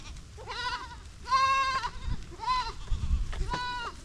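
Sheep and goats bleating on a farm, four separate calls of one or two seconds each standing out over low background rumble and handling noise, fairly near.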